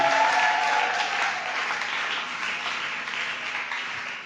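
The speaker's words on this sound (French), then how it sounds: "Est-ce que quelqu'un peut bien acclamer Jésus?" Church congregation applauding to acclaim Jesus during a worship service, a dense, steady wash of clapping from many hands that stays loud throughout and eases off slightly toward the end.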